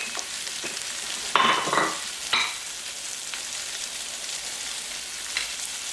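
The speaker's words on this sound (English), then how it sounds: "I'm going to brown the onions slightly before I do anything else." Onion browning in butter in a pan gives a steady soft sizzle throughout, with a few brief louder stirring bursts, heard close and alone without voices.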